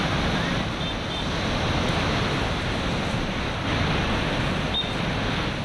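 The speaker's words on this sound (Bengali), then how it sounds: "তিলপাড়া জলাধার থেকে জল ছাড়া হয়েছে" Water released from the Tilpara reservoir rushes into the Mayurakshi river in Birbhum, a steady dense roar of torrent, loud and unbroken for the whole stretch.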